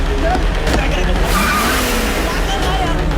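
A car pulls away with tires skidding amid an action movie chase, continuous loud engine and tire noise throughout, with people shouting over it.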